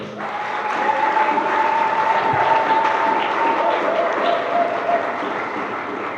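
A church congregation applauds for several seconds, the clapping full and steady throughout, with a faint sustained tone beneath the crowd.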